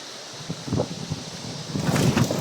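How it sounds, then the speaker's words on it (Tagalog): Gusty wind buffets the microphone with rumbling, rushing bursts that swell louder toward the end. "Ang lakas ng hangin."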